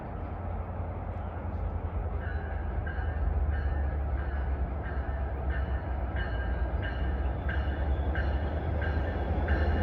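A double-headed freight train passes at a station in Union, New Jersey, a loud continuous low rumble of wheels and engines with a repeating rhythmic clatter of rail joints, steady throughout.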